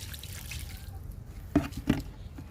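Kitchen-waste liquid fertilizer is poured onto a potted garden plant, a soft trickle with a couple of brief splashy drips near the end, quiet and close.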